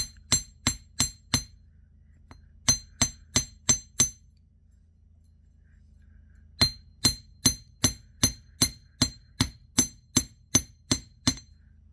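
Sharp metallic hammer strikes on square jewelry wire ring out in quick, steady runs of blows, pausing briefly between bursts, close and clear with no talking.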